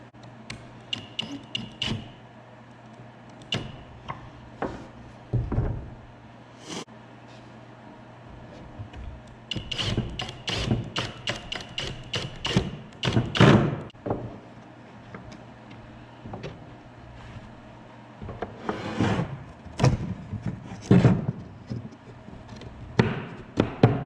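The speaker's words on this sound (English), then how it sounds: "think I got to clean out the end of this just a little bit more with the chisel" Chisel cleaning out the end of a joint in walnut wood for barn-style entertainment stand doors: scattered sharp taps and scraping strokes in irregular bursts, close and moderately loud, with quiet pauses between.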